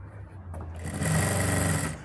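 A sewing machine stitches seams on a lined kameez with an organza collar, running steadily and loudly for about a second and a half after a short quieter start.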